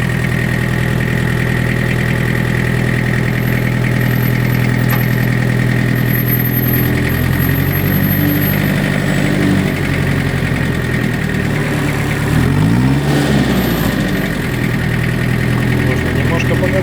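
A Mitsubishi MT-2201 four-cylinder tractor idles steadily and quietly, its low, even engine hum continuous throughout, with a slight change in tone near the end.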